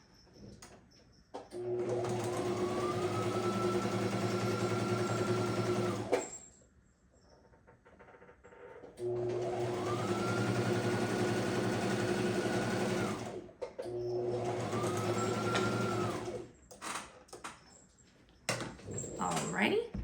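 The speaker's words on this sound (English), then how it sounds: "I'm now gonna sew these pieces together." Sewing machine stitching quilt pieces together in three long, steady whirring runs, each spinning up and holding a constant hum, separated by brief pauses with light handling clicks and some quiet talking.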